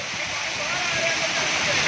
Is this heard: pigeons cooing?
no